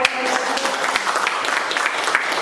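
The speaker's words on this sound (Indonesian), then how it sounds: "Tepuk tangan kita." A group of teachers at a positive school culture dissemination session applauds, a continuous close wash of clapping with a few louder individual claps rising out of it.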